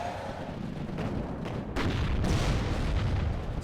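A tank firing shots in the WARNO real-time strategy game, heard as a dense wash of booming artillery-like blasts and rumbling explosions under continuous battle noise, fairly loud and steady across the moment.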